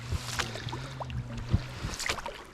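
Small boat moving across water during spring carp fishing, a faint low motor hum with soft water lapping and light knocks, close and steady, no talk.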